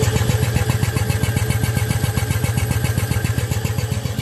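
Quincy air compressor running on a VFD, a loud, close and steady pulsing thump of the pump at a fast, even rhythm, with no talking.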